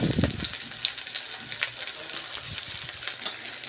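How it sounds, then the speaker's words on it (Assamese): Onions sizzling and crackling steadily in smoking-hot mustard oil, a loud continuous hiss with bursts of spatter and occasional stirring, close up. "পিঁয়াজখিনি অলপ সময় ভাজি ল'ব।"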